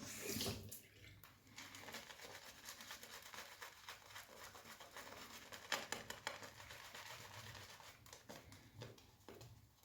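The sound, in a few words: water running from tap during traditional shaving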